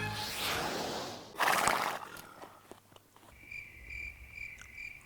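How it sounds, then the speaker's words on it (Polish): Crickets chirp in a faint, steady high-pitched trill at night, coming in after a few soft rustling thuds. "Teraz dowiemy się, dlaczego świerszcze cykają nocą"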